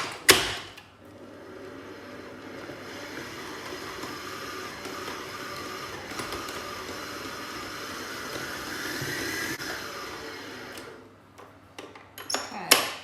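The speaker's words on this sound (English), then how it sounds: "I'm going to go straight to the mixer. I've got a paddle attachment, and I'm just going to start just to lightly break up the butter." A stand mixer with a paddle attachment breaking up butter for chocolate chip cookie dough, a steady mechanical whir and light churning near the microphone, with clinks at the start and end.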